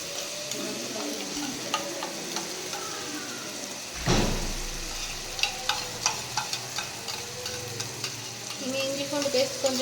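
Onions sautéing with ginger garlic paste in a pan for chicken kulambu give a soft continuous sizzle with repeated scraping stirs, a sharper clatter near the middle and regular ladle taps toward the end, with no talk.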